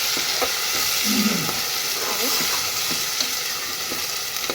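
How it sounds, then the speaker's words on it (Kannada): Steady loud sizzle of masala with onion paste frying in hot oil, with occasional soft stirring scrapes, close and continuous. "ಮಸಾಲೆ ಎಲ್ಲ ಎಣ್ಣೆ ಒಳಗೆ ಚಲೋ ಕುದೀತ್ರಿ"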